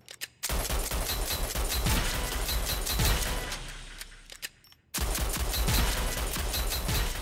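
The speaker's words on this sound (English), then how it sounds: "Here's how the recoil normally is when you push R2 for this weapon." Rapid automatic weapon fire in a video game, two close, loud bursts of quick repeated shots separated by a short pause, with no talking.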